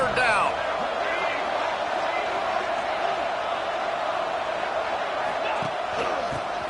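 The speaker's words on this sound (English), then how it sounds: "Guns up, and so is the noise. The crowd electric trying to help Tech on this third down." Dense, roaring stadium crowd cheering at a Texas Tech football game against Kent State on a third down, loud and sustained throughout with a steady wash of voices and occasional shouts and whoops.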